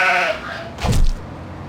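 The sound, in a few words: sheep bleating in a video game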